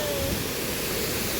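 Waterfall, a dense, steady roar of rushing water close by, unbroken and loud from start to end.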